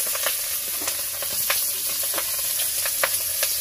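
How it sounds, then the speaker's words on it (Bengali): Onion, chopped green chilli, dried red chilli and nigella seeds sizzle in hot oil for a tempering, a steady loud hiss punctuated by small crackling pops. "ফোড়নে শুকনো লঙ্কা গোটা কালি জিরে আর পেঁয়াজ আর লঙ্কা কুচি দিয়ে দিয়েছি"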